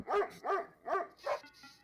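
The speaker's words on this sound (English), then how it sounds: "So when you hear this bark," Four sharp barks from a Labrador–pit bull mix, evenly spaced and close, each loud and clipped, with a faint whimpering tail after the last one.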